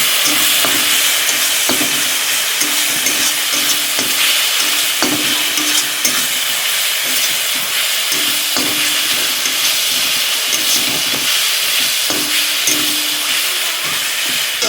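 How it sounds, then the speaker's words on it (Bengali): Chili powder paste sizzles and fries in a pan for a village-style mutton curry, with a steady loud hiss and a spoon stirring and scraping at a regular rhythm, close up and alone. "এখন এটাকে ভালো মতন কষিয়ে নিতে হবে।"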